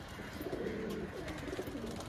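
A small female Kagoji pigeon and her mate cooing softly in a low, steady murmur, faint and slightly distant, with no voices over it.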